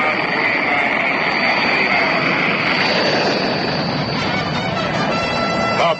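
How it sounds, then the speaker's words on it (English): Rocket engines fire at an Apollo 10 launch, a loud, dense, continuous roar with steady rumble and hiss that holds at full strength throughout. "There's the fire. Engines running. Launch commenced. There it goes."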